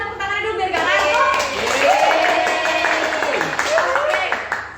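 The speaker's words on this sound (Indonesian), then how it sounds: "Tepuk tangan dulu biar gak ngantuk." Hand clapping from a group at an Indonesian talk event on children's gross motor development, rapid claps running under steady voices and chatter throughout.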